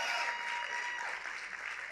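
A church congregation claps during a sermon, a continuous, moderately quiet spread of many hands heard from some distance, with a faint voice line running underneath.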